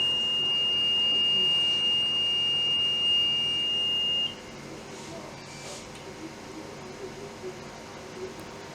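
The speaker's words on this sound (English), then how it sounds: "Apart from hearing the alarm, we can also see the relevant indicator lights on both the head and the unit" A reconditioned smoke detector head sounds its alarm as a single steady, piercing electronic tone held for about four seconds, then cuts off, leaving faint background hum.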